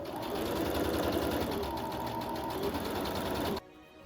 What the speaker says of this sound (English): And then I go ahead and sew them onto the seam allowance.